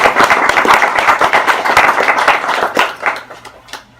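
An audience applauds after a poetry reading: loud, dense, close clapping that thins out and fades over about four seconds.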